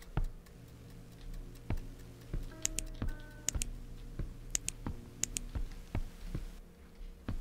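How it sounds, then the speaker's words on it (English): A clock ticks in the haunted-island video game Within Skerry, sharp regular clicks roughly every half second, mixed with faint tonal game sounds and no talking. "The clock is moving faster than ever."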